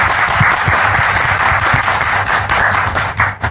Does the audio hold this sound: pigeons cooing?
no